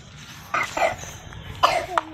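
Two short, harsh coughing bursts, close by, separated by a pause, with a faint squeak after the second; low background hum throughout.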